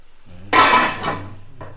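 Chicken samosa filling with masala stirred in a pan, one loud scraping clatter of a spoon against the metal followed by a softer second scrape and a brief knock, with no talking.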